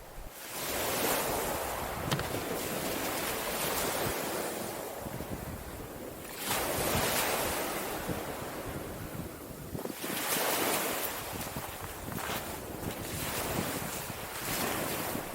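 Steady wind buffets the microphone over rolling surf on a Eastbourne beach, with waves swelling and breaking in repeated surges, loud and continuous, no voices.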